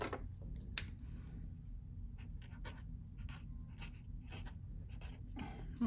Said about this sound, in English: in case you do want to write with the actual marker on your planner